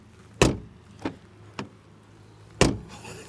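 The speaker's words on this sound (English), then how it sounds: "listen to this door shut. Sounds really cheap." Doors on a 2024 BMW X1 shut one after another, four thin, hollow-sounding thuds with a pause before the last, close and alone in a quiet setting.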